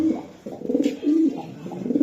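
A racing pigeon coos in low, rolling repeated phrases, close and clear, with faint background noise and no talk.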